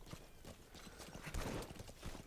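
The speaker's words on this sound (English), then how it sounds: "call back your noble steed" A horse galloping in Metal Gear Solid V, rapid rhythmic hoofbeats thudding close by over a brief, quiet stretch of game sound.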